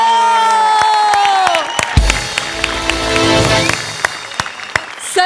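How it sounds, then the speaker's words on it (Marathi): A loud stage audience breaks into clapping and cheering after a performance. A sustained voice note fades out beneath a rising wash of claps and shouts close by. "आणि तुमच्या ह्या अद्भुत सादरीकरणाला मी उभा राहून टाळ्या"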